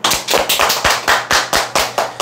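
An audience claps in steady unison, giving about eleven loud, evenly spaced, sharp claps close by, with no talking over them.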